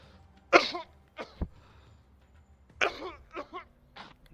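A man coughs twice, close and sharp, each time in a short cluster of hacking bursts, while he plays a Rebel Inc strategy game.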